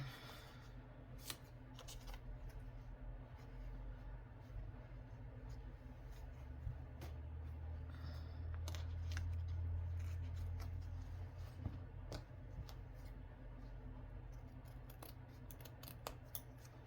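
Scissors cut fabric pieces for a slow-stitched wall hanging block, giving steady, close snips and rustling paper-like crunches over a low background hum, with no talking.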